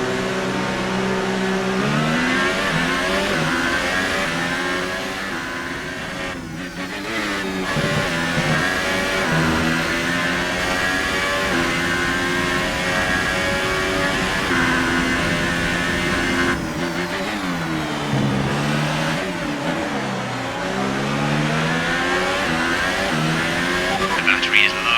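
Formula 1 car engine in the F1 2018 racing game, a loud, high revving whine that climbs and drops through gear changes, with a voice talking over it at times.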